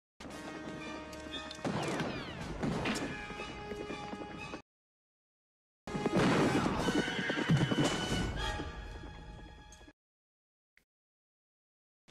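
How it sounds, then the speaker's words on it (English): Loud horse whinnies and neighs with clip-clop hooves in a Western film scene, two bursts separated by a short silence, a faint tap near the end. "Can't you see this horse loves me?"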